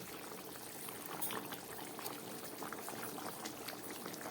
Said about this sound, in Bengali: মাছের ঝোল ফুটে উঠেছে।